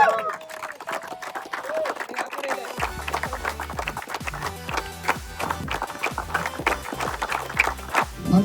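Applause for the player of the match at a Thunders vs Titans league match presentation: a crowd claps in a fast, dense patter for several seconds, and low music and some talk come in partway through.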